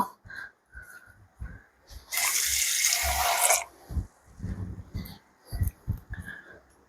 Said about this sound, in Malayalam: ദേ അത് കഴുകിയ വെള്ളവും കൊണ്ടുവന്ന് ഒഴിച്ചു